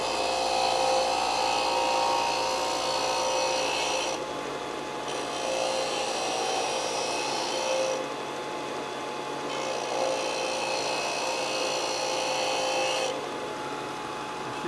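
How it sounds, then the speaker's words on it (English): Steady rasping of sandpaper on a wooden Ruger 10/22 benchrest rifle stock, continuous strokes with brief pauses, close and moderately quiet. "I can sand that right up to the line."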